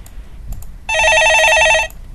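A telephone rings once in a Korean stock-market call-in broadcast studio: a single bright, trilling electronic burst lasting about a second, clear and alone against quiet background.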